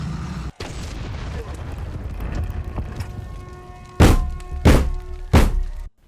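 A muffled rumbling background gives way to three heavy booming blasts in quick succession in an open-world RPG video game, each loud and punchy, then sudden silence.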